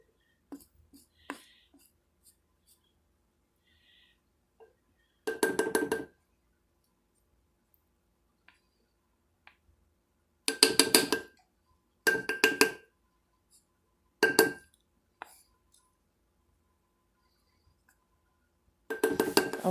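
A spurtle clinks against the inside of a glass pickle jar in several short separate bursts of chinking and scraping, close and fairly loud, with quiet gaps between.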